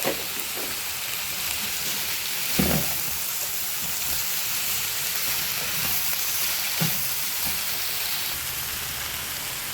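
Carrots tipped into a hot frying pan for mixed vegetables, a steady hiss of sizzling like light rain, with a few soft clunks as pieces land, continuing evenly throughout.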